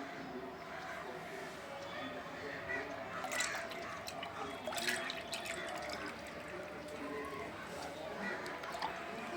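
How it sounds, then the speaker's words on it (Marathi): Water from a one-litre measure is poured over banana peels for liquid fertilizer, a faint continuous trickle and splash with a few louder drips, heard softly with faint background voices. "आता आपण ह्याच्यामध्ये ओतूयात पाणी ते"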